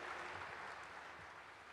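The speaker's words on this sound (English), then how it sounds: "Vous pouvez les applaudir encore une fois, s'il vous plaît." Audience applause at an international round-table event, a steady, dense wash of clapping filling the whole moment at moderate distance, with no voices on top.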